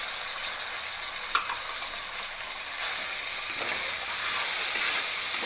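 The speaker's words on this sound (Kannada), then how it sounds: "ಇದು ಹಸಿ ಬಟಾಣಿ ಹಾಕಿರೋದ್ರಿಂದ 1ರಿಂದ 2 ನಿಮಿಷ ಫ್ರೈ ಆದರೆ ಸಾಕು" Fresh green peas frying in a pan for hotel-style soya pulao, a steady close sizzle and hiss with a brief clink near the start, growing slightly louder toward the end, no talking.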